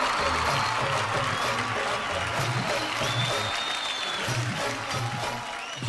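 An audience claps steadily for Anil Kapoor at an award event, a dense, even wash of applause held for several seconds, with music playing underneath.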